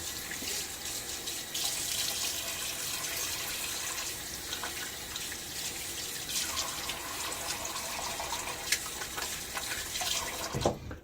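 A bathroom tap runs steadily into a sink while a face is rinsed after a wet shave, a constant close hiss and splash of water that stays fairly even throughout and ends abruptly.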